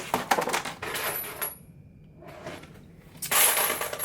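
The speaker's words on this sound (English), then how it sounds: "if you heard that click, that is that spring popping that brass" Sharp metallic clicks and rattles as the spring of a Lyman primer popper pops spent primers out of brass cartridge cases, a close burst at the start, a quiet pause, then another cluster of clicks.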